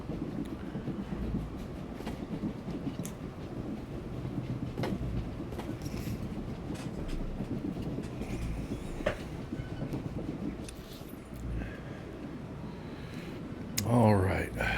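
A moving train in the Star Wars: The Old Republic video game rumbles with a continuous low rolling drone and faint rhythmic track clatter, and a louder burst of activity comes near the end.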